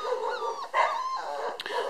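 Young puppies just moved into a new kennel whimper, yip and whine steadily at close range, several small voices overlapping.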